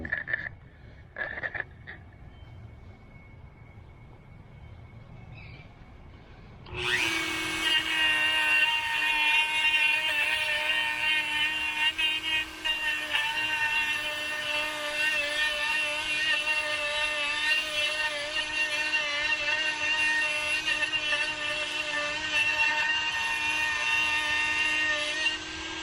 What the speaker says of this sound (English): we're going to use the Dremel to hog off some of the material